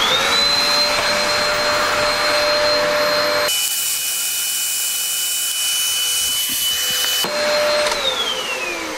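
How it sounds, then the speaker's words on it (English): A vacuum cleaner whines loudly and steadily nearby, its pitch shifting as the airflow changes midway, then settling back before slowly winding down. "I'm going to put the vacuum on at the same time"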